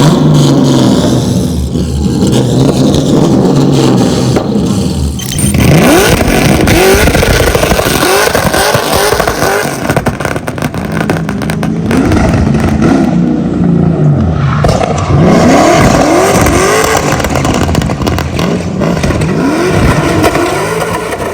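Loud car engine revving repeatedly, rising and falling in pitch with aggressive bursts, close by and continuous, with no talking.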